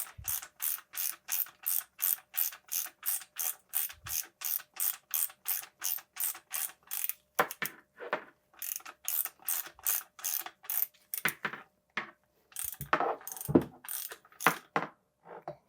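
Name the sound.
screwing parts down with a ratchet on a Rockshox Pike fork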